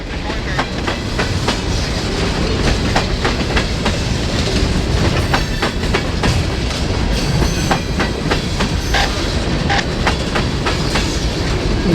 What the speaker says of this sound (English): the engines pass us before disappearing around the curve